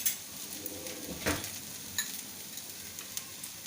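Sabudana tomato khichdi with coriander and roasted ground peanuts being stirred in a pan, a soft close sizzle with light scraping strokes and a few brief utensil knocks.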